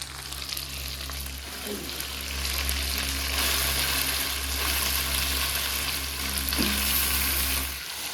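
Meat fries in a pan with garlic and chilli paste, a loud steady sizzle close up, broken by a few clattering stirs of the spoon against the pan.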